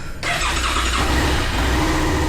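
A Suzuki SV650 motorcycle engine with stock exhaust catches and runs loud and close, a steady low rumble with a rough mechanical edge that holds to the end.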